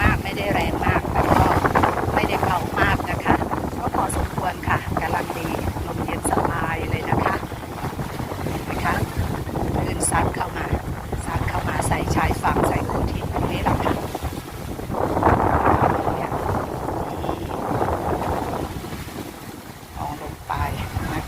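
Gentle, low sea waves wash steadily onto Bang Saray beach in Sattahip, Chonburi, under a constant roar of wind buffeting the microphone, with brief swells in surf noise and someone talking over it.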